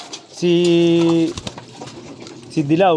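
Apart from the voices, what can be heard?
pigeon cooing in a loft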